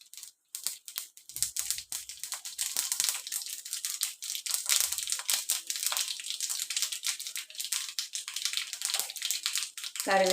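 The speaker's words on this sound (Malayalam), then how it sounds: "കറിവേപ്പില, കടുക് പൊട്ടുന്നുണ്ട്" Mustard seeds popping and spluttering in hot oil, tempered for a Kerala-style coconut chutney, a rapid irregular crackle of sharp pops that is close and fairly quiet.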